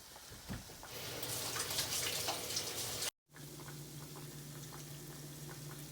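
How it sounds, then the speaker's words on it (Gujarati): Muthiya dumplings frying in hot oil, giving a steady, dense sizzle that drops out briefly midway and then resumes slightly calmer. "આવી રીતે બધા તળી લઈશું"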